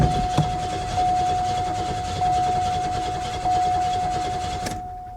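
A 2002 Ford Thunderbird engine idles steadily after starting, with a constant drone and a steady whine, close and fairly loud, then cuts off abruptly near the end.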